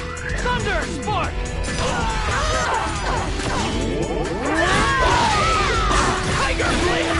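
Thunder Spark attack effect from the .hack//G.U. Vol.2 video game: crashing, whooshing electric impacts and sweeping zaps layered with battle effects and character shouts, dense and loud for the whole stretch.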